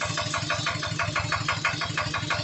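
Repaired engine, previously burning oil out the exhaust, idles with a steady rhythmic chug and pulsing exhaust beat, close and fairly loud, no speech over it.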